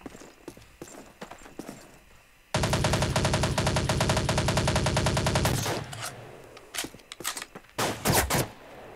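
Dense automatic gunfire from a P90 in online Call of Duty 2 play, a loud sustained burst lasting about three seconds, with sparser single shots and clatter before and after.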